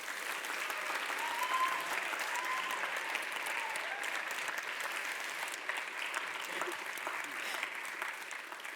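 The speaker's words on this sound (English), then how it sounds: "Let's carry on our applause" Audience applause at the close of a student public speaking competition final, a steady wash of many hands clapping at moderate distance that sustains evenly throughout.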